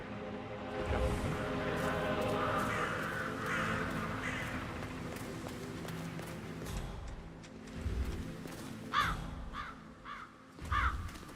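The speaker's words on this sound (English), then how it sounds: "Damn birds." Several crows caw repeatedly over a steady low hum, with louder, sharper caws bunched near the end.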